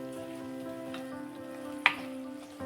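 Tomatoes with salt sautéing in a pan for a potato and pointed-gourd curry, giving a steady soft sizzle with a faint clink near the middle, no talk.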